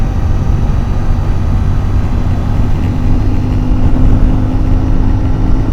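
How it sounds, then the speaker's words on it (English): CFMoto 450 MT motorcycle accelerating uphill through the gears, a loud, close engine drone with steady low harmonics and continuous wind rush, rising slightly in intensity. "4th gear, 5th gear, 6th gear, and it's accelerating."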